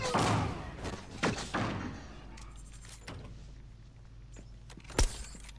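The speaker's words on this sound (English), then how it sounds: "Hold on, let me get the door." Door sequence in a first-person shooter video game: a loud slam at the start, a few heavy thuds and clunks, then a final sharp bang near the end, all over a low background hum.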